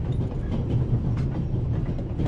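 A train rolls on rails in The Raven Remastered, a loud, steady low rumble with faint rhythmic rattling, heard continuously from inside and close by, with no speech.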